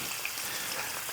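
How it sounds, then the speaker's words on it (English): An egg sizzles in a hot oiled pan at the start of making egg fried rice, a faint, even, continuous hiss with no talking over it. "Now our pan is hot, it should sizzle like that. Can you hear that sizzle?"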